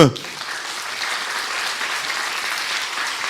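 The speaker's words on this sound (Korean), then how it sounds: "우리 팀장님한테 박수." Steady, dense applause from a church congregation fills the clip at an even volume from start to finish.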